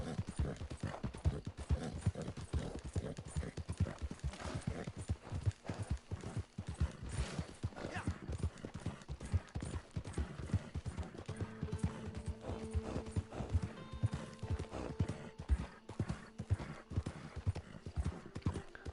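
A horse in Red Dead Redemption 2 gallops with rapid, rhythmic hoof clip-clops, close and steady, with a brief whinny and some faint game sounds around it.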